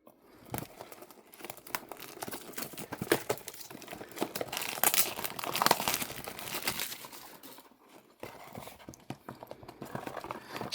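A blind box toy package is torn open and unwrapped, a continuous close crinkling and crumpling of wrapper with tearing rustles, moderately quiet and free of speech.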